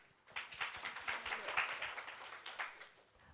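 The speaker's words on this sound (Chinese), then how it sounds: "让我们掌声欢迎他。" A conference audience at a PHP developer event in Taiwan breaks into applause to welcome a speaker: a moderate burst of overlapping hand claps that rises quickly, holds steady, then thins out near the end.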